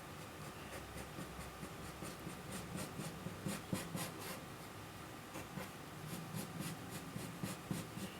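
A pencil scratches across paper while a smooth curve is drawn for a graph, a soft continuous rubbing with small rhythmic strokes, close and quiet, without speech.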